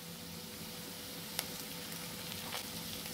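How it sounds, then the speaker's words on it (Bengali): Pumpkin stir-fried with dried shrimp and chopped coriander in a pan, giving a faint, continuous sizzle with a couple of soft stirring clicks, quiet and without voices. "আলতোভাবে নেড়ে চেড়ে মিশিয়ে নিচ্ছি।"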